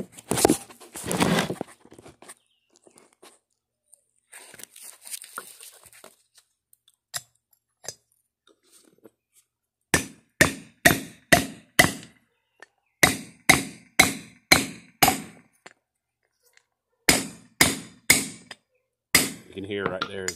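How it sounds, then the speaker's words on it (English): A hammer seats a trailer wheel bearing race with sharp metallic blows, first a few scattered taps, then rapid clusters of four to six ringing strikes with short pauses between groups, close and loud. "can hear right there is the hammer. That's the banging."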